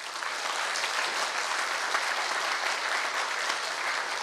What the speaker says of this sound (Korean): 힘찬 박수로 축하해 주시기 바랍니다